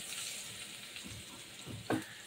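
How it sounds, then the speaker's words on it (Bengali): Chopped onion frying in hot oil in a pan, a soft steady sizzle throughout with a faint clatter near the end, quiet and close. "এই পর্যায়ে ওই তেলের মধ্যেই আমি পেঁয়াজটা দিয়ে দিচ্ছি।"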